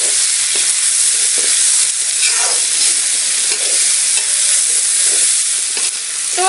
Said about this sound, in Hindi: इसके बाद हम डालेंगे कटा हुआ आलू। तो आलू भी डालकर हम अच्छे तरीके से भून लेंगे।